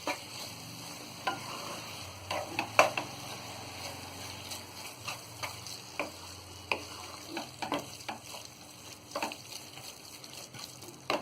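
Baingan bharta, a mashed eggplant dish with coriander, is stirred in a pan over a gas flame, giving a steady soft sizzle broken by frequent quick scraping and clicking strokes of a spoon, close and fairly quiet.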